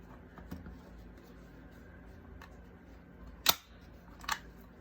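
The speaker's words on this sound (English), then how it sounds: "and then staple it." Folded paper being stapled, with two sharp metallic clacks near the end, the first louder, close up against a quiet background with faint rustling.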